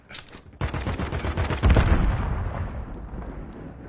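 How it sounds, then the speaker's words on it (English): Grenade blast and gunfire in the Call of Duty MW3 video game: a sharp burst of shots, then a heavy loud explosion that rolls into a long fading rumble and debris. "Throwing grenade!"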